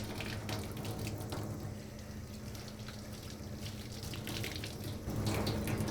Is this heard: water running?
yes